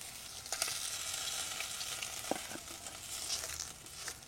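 Fish frying in hot oil in a home kitchen, a steady close sizzle with a few sharper crackles and pops as pieces are lifted out, no voices.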